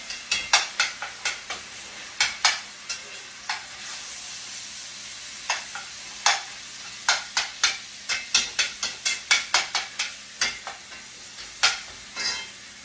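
Homemade spaghetti sauce being stirred in a pot over high heat: a quick run of sharp scrapes and clinks, closely miked, over a soft sizzle.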